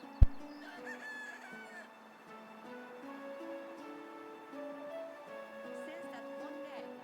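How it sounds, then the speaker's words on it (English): Chickens on a farm from a medieval village-building game cluck and crow steadily throughout, a layered ambient farmyard bed with a brief sharp knock at the start. "Enjoy the sounds of the pigs and chickens."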